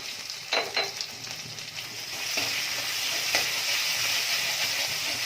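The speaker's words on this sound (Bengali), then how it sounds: "আদা রসুনটা হালকা করে একটু ভাজা ভাজা করে নেবো" Ginger garlic paste sizzles steadily in hot oil, with a few scraping stirs near the start; no voices, just a soft continuous frying hiss.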